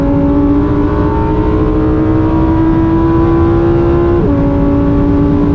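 A 2023 Lamborghini Huracan Tecnica engine pulls hard from inside the cabin, a loud, steady rising drone that climbs in pitch, drops briefly at a gear shift, then keeps climbing.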